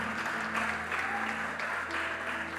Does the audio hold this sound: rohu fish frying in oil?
no